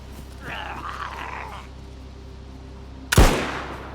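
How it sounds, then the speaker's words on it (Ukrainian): A single sharp, loud gunshot in the video game DayZ bursts near the end, following a stretch of low droning background noise and a faint muffled groan. "По мені стріляє він."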